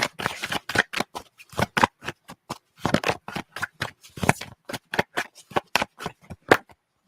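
A person shuffles a deck of playing cards close up, with a long series of quick, crisp riffling bursts in steady rhythm and short pauses between them, and no voices.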